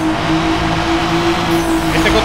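A Mazda RX-7 races in Need for Speed Underground 2. A loud, steady engine whine with a pulsing tone carries through the whole short stretch, with no talk over it.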